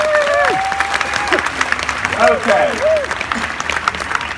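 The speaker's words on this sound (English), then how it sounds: "give them a big round of applause" A studio audience at a live sewing competition show bursts into steady, dense applause that carries throughout, with voices talking over it.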